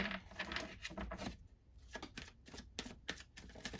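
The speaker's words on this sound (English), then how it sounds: "There we go, with this shuffling." Brisk, rhythmic tarot card shuffling close by, a series of papery riffles and flicks with a short pause midway.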